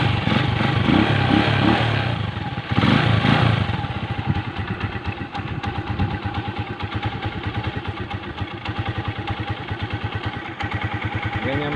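A 150 motorcycle engine idles steadily and close after its carburetor has been tuned, with a brief louder rev near the start before settling into an even, rapid putter that runs throughout.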